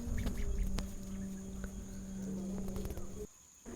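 Muscovy ducklings let out on their first day outside make a continuous chorus of small peeping calls, with insects buzzing in the background before a sudden drop to near silence at the end.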